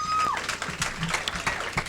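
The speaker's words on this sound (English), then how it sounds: "Let me hear the Democrats in the room by applause." Scattered applause from a comedy club audience, moderate and uneven, with a brief whistle-like tone at the start.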